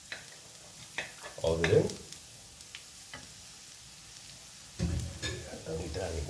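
Garlic and onions sautéing in a pan, a soft sizzle under intermittent stirring clatter in two louder bursts, with a brief spoken remark.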